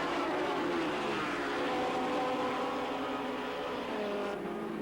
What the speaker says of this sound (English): The roar of engines is deafening as 80 riders and machines blast off for 24 hours